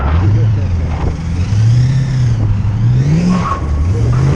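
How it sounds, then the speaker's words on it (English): A BMW's engine revs loudly and steadily close by, its pitch rising and falling in waves as the throttle is worked, with someone talking over the droning motor. "engine of BMW."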